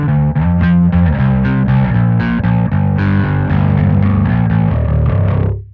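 Bass guitar through a Caline overdrive pedal plays a gritty, distorted riff of punchy notes in a steady groove, close and loud, ending on a fading sustained note with no voices.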